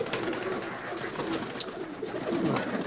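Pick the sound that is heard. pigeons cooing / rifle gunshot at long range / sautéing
pigeons cooing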